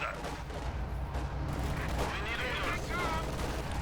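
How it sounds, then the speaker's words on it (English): Company of Heroes 2 battle: a Pak 40 anti-tank gun fires amid grenade blasts and gunfire, a dense rumbling barrage with a voice talking over it. "And Pack 40 shot there, bounces off the K1's front."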